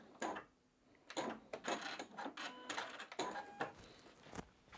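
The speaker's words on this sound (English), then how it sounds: "Let's back stitch to lock it in again." A domestic sewing machine back stitches to lock a seam at a mitered fabric corner. It runs in short, close mechanical bursts of whirring and clattering with brief pauses between them.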